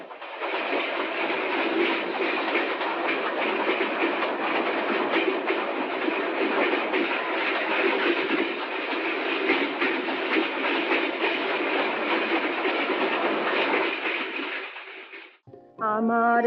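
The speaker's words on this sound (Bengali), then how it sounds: "না, মেল ট্রেন" A mail train runs on the rails with a steady, loud rumble and rhythmic clatter for about fifteen seconds. Near the end another brief, tonal sound cuts in over it.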